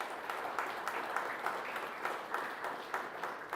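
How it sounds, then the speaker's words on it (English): A crowd applauds football player of the year award winners at a West Michigan Conference fall sports awards ceremony, a steady, moderately distant wash of clapping lasting the whole stretch. "if you could please give these guys a round of applause"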